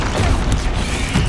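Bombarda blasting spell in Hogwarts Legacy: a dense, loud rumbling blast with broad noisy roar and crackle, sustained throughout without a clear pause.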